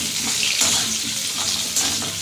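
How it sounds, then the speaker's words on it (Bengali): Potatoes fry in hot oil seasoned with black cumin, giving a steady, close sizzle with faint stirring, no voices. "এবার একটু আলুগুলো ভেজে নিই,"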